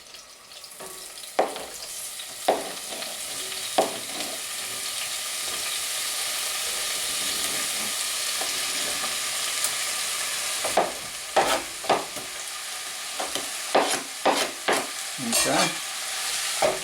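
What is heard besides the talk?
black bean and corn salsa cooking in enameled pot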